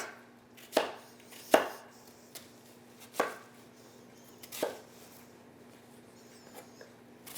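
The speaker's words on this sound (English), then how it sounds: "I will just cut it in slices" A knife slices vegetables on a cutting board for Portuguese-style stuffing, producing a few sharp, separate cuts spaced about a second apart, close and fairly quiet with no talk.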